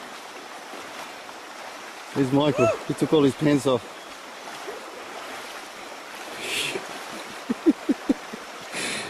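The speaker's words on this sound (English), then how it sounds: "And this is an unexpected river crossing." River water rushes and gurgles steadily during a river crossing on the Kokoda Track, a constant near flow with a few splashes, while people talk over it.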